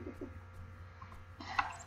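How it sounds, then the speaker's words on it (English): Bird in the video game Village Monsters giving a few soft low coos, quiet over a faint steady background hum, followed by a brief brighter fluttery burst near the end. "Oh, no, come back, bird."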